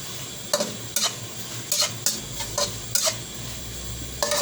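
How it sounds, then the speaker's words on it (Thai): Crickets being dry-roasted in a pan are stirred with a utensil, giving sharp scraping clacks at an irregular rhythm over a soft sizzle, close up, with no talk. "เดี๋ยวรอคั่วเรารอคั่วจนแห้งเนาะ"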